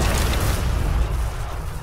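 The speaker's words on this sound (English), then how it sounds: "Stewie, those off-screen explosions are because of your Terminator." Cartoon explosions rumble off-screen during a parade: a continuous, dense, bass-heavy roar of booming blasts that fills the whole stretch at steady loudness, with no talking.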